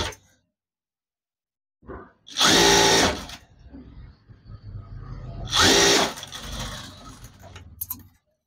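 A sewing machine stitches a silk saree blouse in two short, loud, whirring bursts, separated and followed by quieter handling noises and the low rumble of the motor.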